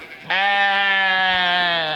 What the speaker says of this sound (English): Yeah, sheep.